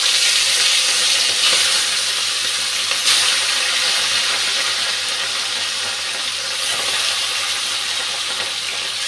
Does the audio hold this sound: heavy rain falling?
no